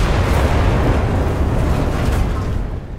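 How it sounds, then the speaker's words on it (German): Heavy, sustained rumbling blasts from grenade explosions in the war shooter game Enlisted, loud and dense throughout with a broad booming roar that tapers slightly at the end. "Oh, Granaten."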